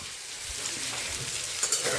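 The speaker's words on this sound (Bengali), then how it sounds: "ভাজাটা হচ্ছে" Food sizzles steadily in a hot pan on a home kitchen gas stove, a soft continuous hiss with a few light clinks of stirring near the end.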